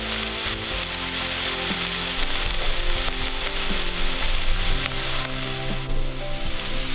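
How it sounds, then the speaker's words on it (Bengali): Banana flower curry sizzling loudly in a pan, a dense, close, continuous frying crackle with occasional stirring scrapes and no voices. "শুধু এটা একটু ভাজা হয়ে আসা অবধি ওয়েট করবো।"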